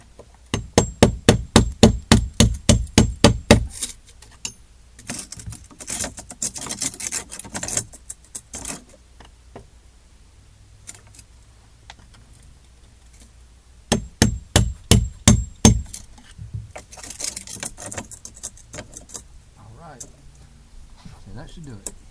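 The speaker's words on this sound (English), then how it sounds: "we're going to have to chisel the mortar out so that it will fit flush to the wall" Rapid, rhythmic metal-on-metal strikes of a hammer on an old screwdriver chiseling out mortar from a wall come in two long bursts, with scattered scraping and lighter taps between them.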